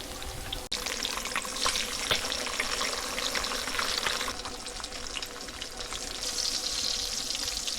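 Bacon and eggs frying on a camp stove inside a hot tent during a snowstorm, a steady close crackling sizzle with a brief clatter near the start.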